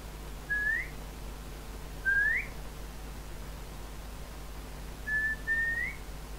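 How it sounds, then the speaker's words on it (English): A person whistles three short rising notes, each bright and clear, spaced a couple of seconds apart in a quiet indoor room with a low steady hum underneath. "Can you make a whistle? I whistle."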